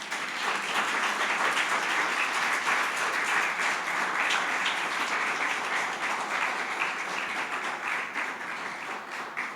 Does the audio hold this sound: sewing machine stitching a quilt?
no